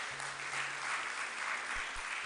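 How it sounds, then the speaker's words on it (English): A press conference audience claps for award winners, a steady wash of applause throughout, moderately loud and continuous. "They all deserve a big round of applause."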